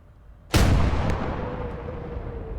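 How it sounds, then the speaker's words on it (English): A single heavy artillery blast in a war video game, a sudden loud boom followed by a long rumbling decay that fills the rest of the moment, with no voices. "Let's get some artillery fire into that."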